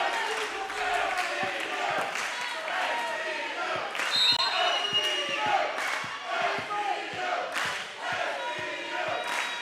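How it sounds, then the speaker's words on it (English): Crowd cheering at a men's college volleyball match in a barn-style gym, a lively roar laced with shouts, thumps of the ball and squeaks, heard under a commentator's voice. "Starting to hear the crowd come alive here in the barn."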